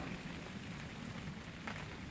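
Steady rain falling at a woodland campsite, a continuous soft hiss of drops with faint patter, evenly textured throughout and fairly quiet.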